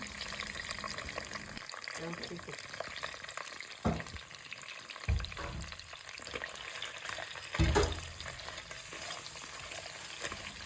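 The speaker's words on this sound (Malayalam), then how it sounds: "അങ്ങനെ നമ്മൾ ഞെണ്ട് ആഡ് ചെയ്ത് കൊടുക്കുന്നുണ്ട് അങ്ങനെ ഞെണ്ട് കുറച്ച് നന്നായിട്ട് മിക്സ് ചെയ്യുന്നുണ്ട്" Crab being stirred in a pan for a mixed seafood fish biryani, a constant frying crackle underneath with a few heavy scraping and clunking strokes of a spoon, close up and busy throughout.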